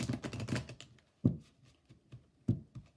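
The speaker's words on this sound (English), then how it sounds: "I like doing the back shuffle too." Celtic Tarot deck being shuffled by hand with a back shuffle, a quick riffling flutter followed by a few soft, separate card taps, close and quiet.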